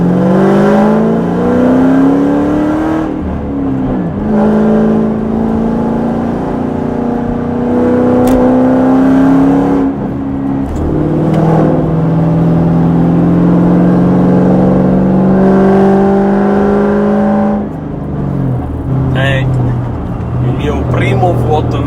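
A 2006 Ford Mustang GT with an American V8 drives with its engine pulling through the gears, loud throaty rises and drops in pitch, under someone talking throughout.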